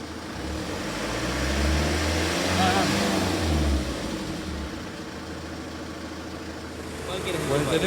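A car engine is briefly revved during electrical checks of a temperature sensor circuit, rising to a swell then easing back toward idle, with a voice speaking over it.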